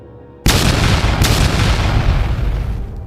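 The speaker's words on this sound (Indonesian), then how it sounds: "Ledakan tidak pernah berhenti." Explosions rip through a collapsing demon realm of crumbling buildings and wildly flaring magic pillars: a sudden loud blast after a brief quiet, then a sustained heavy rumble that slowly fades.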